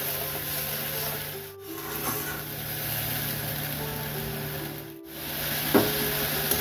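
Tomato puree with half a spoon of sugar fries in oil in a pan for a Bengali boal fish kosha, a low steady sizzle with occasional scraping and stirring knocks, fairly quiet throughout.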